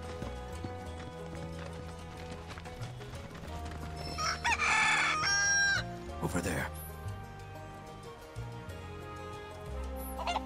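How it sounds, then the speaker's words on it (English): A chicken in the Final Fantasy VII Rebirth video game crows loudly once, with hooves clip-clopping nearby over layered game music, and someone talks briefly. "Such a cute little chicken."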